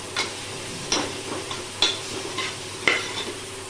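Onions and masala for prawn biryani sizzle steadily in a pan while a spoon scrapes through them in four or five distinct stirring strokes, close and moderately loud, with no talking.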